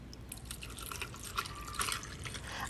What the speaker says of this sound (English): I am ready to start pouring the lemonade in here.